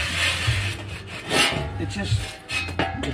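Grease residue being scraped off a Pit Boss 820SF pellet smoker with a rasping, rubbing scrape that repeats in short strokes, close and fairly steady, with no talk.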